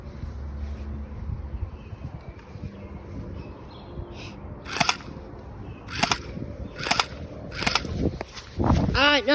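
Airsoft pistols firing in a quick full-rush pistol battle between two players: sharp snapping shots, scattered singly then in a quicker cluster, over wind and rustling outdoors.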